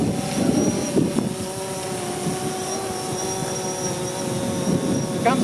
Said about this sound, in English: Here comes the Coast Guard helicopter.